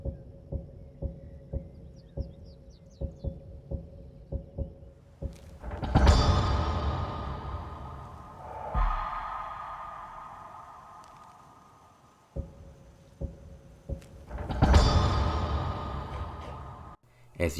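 Modded Skyrim user interface sound effects play alone: a run of short, evenly spaced clicks and taps, then two loud whooshing swells with airy tails and a lower sustained drone between them, ending in more crisp clicks.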